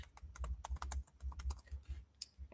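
Quick bursts of typing on a computer keyboard, keys clattering in uneven clusters with short pauses, close and fairly quiet, with no voices over it.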